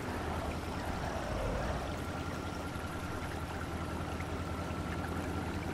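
A strong river current in the off-road driving game SpinTires makes a steady, dense rushing of water that fills the whole stretch with no voices.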